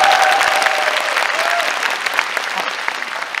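Loud, dense clapping from a concert hall audience at a lecture concert, with a brief cheer at the start, holding steady and then tapering slightly.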